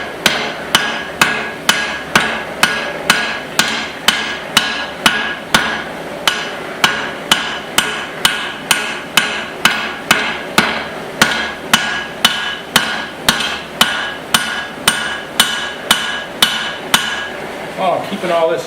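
A hammer pounds hot steel to widen a small axe head held on rebar, delivering steady, evenly spaced ringing blows, loud and close, about two per second throughout.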